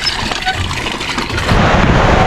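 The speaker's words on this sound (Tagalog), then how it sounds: "Nabutan ng ulan." Steady rain hisses across the whole clip, growing heavier and denser toward the end, with a low rumble underneath.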